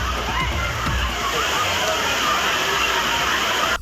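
Water pours down the Panchalinga falls at Thirumoorthy Hills as tourists bathe, a constant loud roar of falling and sloshing water with faint splashes near the start.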